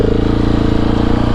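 A 2019 KTM 690 SMCR single-cylinder motorcycle idles close by, a loud, lumpy thumping engine pulse with rapid regular beats, heard alone.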